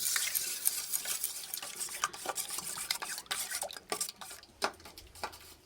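Beaten eggs with salt, pepper, sugar and ghee being mixed, quick irregular clinks and scrapes of a utensil against a bowl, close but quiet, brisk and uneven, with no talking.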